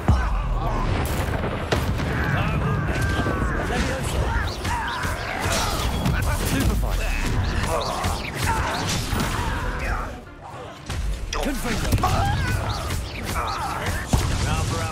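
Confringo blasting spells explode in a Hogwarts Legacy PS5 battle against goblins, with heavy booms, crashes and impacts layered over continuous combat noise and character voices shouting throughout.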